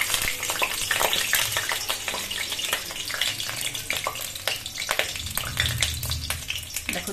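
Potatoes and cauliflower frying in hot oil, a lively crackling sizzle punctuated by sharp pops and spatula stirs, fairly close and moderately loud with no talking.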